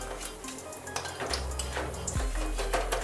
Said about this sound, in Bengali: ঠেকুয়াগুলো আমি ভাজছি।